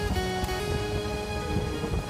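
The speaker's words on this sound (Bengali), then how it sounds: "ওয়েদার খারাপ, বৃষ্টি হচ্ছে।" Rain falling during a motorbike ride on a coastal road, heard as a dense, steady wash of noise mixed with a constant engine drone, close and continuous.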